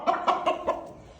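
A hen or rooster held in someone's hands clucks four times in quick succession, close and fairly loud, then quiets.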